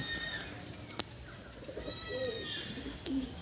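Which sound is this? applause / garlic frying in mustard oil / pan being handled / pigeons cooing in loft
pigeons cooing in loft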